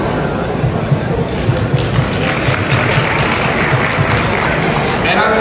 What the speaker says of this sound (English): hopefully we can give a round of applause to everyone who made tonight's event possible